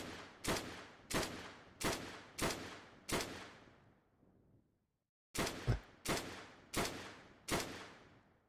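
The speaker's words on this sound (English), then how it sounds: "So shoot these zombies." Zombies being shot in a multiplayer Unreal Engine video game: five loud, evenly spaced gunshots, a brief silence, then five more shots in the same steady rhythm, with no talking.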